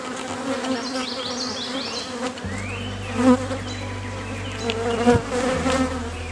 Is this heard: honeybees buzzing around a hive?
yes